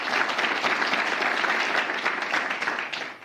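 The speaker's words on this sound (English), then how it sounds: "good round of applause for that." Dense, sustained applause from an audience at a county state-of-the-county presentation, a thick even wash of many hands clapping at once, loud and unbroken, fading slightly at the end.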